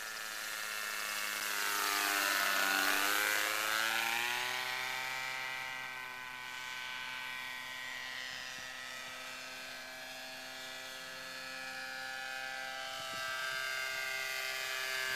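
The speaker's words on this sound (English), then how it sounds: "Here's your flyby, Rich." A radio-controlled model helicopter makes a flyby on its maiden flight, its high whining rotor and engine rising in pitch as it nears and dropping as it passes, then droning steadily at a distance.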